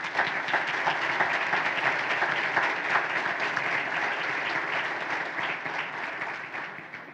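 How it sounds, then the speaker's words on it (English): Sustained audience applause at a charity philanthropy luncheon, steady dense clapping from a large room lasting several seconds before tapering slightly at the end. "let's please give them a round of applause."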